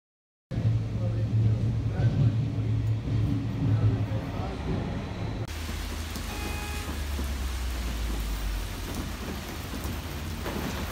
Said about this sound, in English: It is like downpouring today.